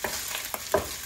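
Fried rice being stir-fried in a home kitchen pan, with a few short scraping stirs over a steady sizzle, close and moderately loud with no talking.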